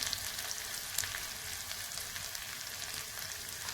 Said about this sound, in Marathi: त्याच्यामध्ये मी घालते अर्धा चमचा मोहरी, आणि आपण जे लसूण, मिरची, आलं केलं बारीक ते घातले।